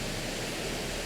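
A waterfall rushes beneath an arched stone bridge among rocks, a loud, steady broadband roar filling the whole moment without pause.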